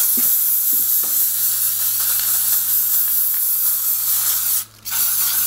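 Spray primer hisses steadily from an aerosol can onto the top layer of a mask, a loud, close, continuous jet with one brief break near the end.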